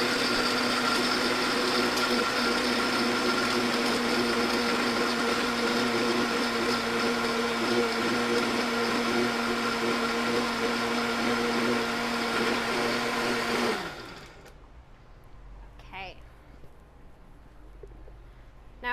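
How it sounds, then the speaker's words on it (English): A blender mixing pool cocktails runs at a loud, steady whir for about fourteen seconds, then cuts off, leaving faint clinks and quiet room noise. "Put it on the blender"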